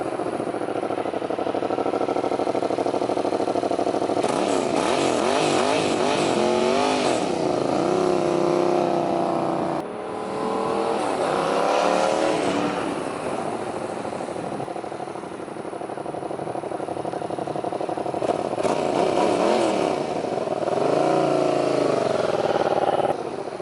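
Yamaha MT-07 and Kawasaki Z800 motorcycles riding, with steady engine drone and rising and falling revs through gear changes, loud and continuous with wind noise, no talking.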